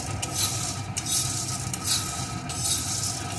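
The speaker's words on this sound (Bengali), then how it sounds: "গোলমরিচ এখন এগুলোকে কিছুক্ষণ ভালো করে ভেজে নেবে" Black pepper and whole spices dry-roasting in a pan, repeated scraping and rattling strokes of a spatula over a faint sizzle, close, with no talk.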